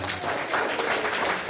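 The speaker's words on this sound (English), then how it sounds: "A round of applause to everyone." Church audience applauding together, a dense steady patter of many hands clapping throughout, fairly close and even in level with no break.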